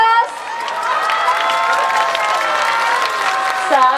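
A crowd at the Saikasai yosakoi dance festival cheers and applauds for the Narukokaisho-winning team's performance, a dense, steady roar of clapping and shouting with voices rising through it and an announcer talking over it.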